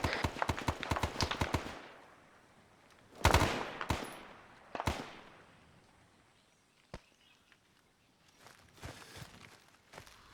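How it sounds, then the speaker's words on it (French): Gunfire in an ArmA 3 Vietnam co-op game: a rapid automatic burst, then several loud separate shots and scattered single cracks trailing off, some near and some more distant, with no voices over them. "Tire est, ça tire de l'est."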